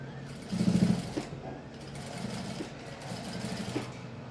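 A sewing machine stitches piping around the neckline of a small child's blouse, running in a brief louder burst and then a softer steady whir, with faint background noise.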